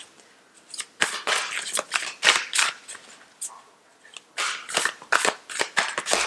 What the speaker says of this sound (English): So I'm going to pull the cards and let's see what comes up.